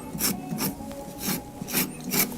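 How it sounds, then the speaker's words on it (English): A rasp tool filing a carved pumpkin sculpture, five rhythmic scraping strokes roughly half a second apart, close and fairly loud, with no talk. "I like this rasp tool."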